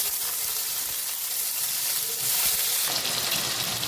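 Potatoes that have been cut and washed fry in extra oil in a wok, giving a steady, close, loud sizzling hiss throughout that swells a little louder near the end, with no voices.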